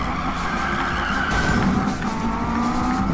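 A front-wheel-drive Acura RSX-R tuned to 900 horsepower drifts in Need for Speed 2015, its engine roaring steadily with sustained tire squeal and skidding throughout, loud and continuous with no talk.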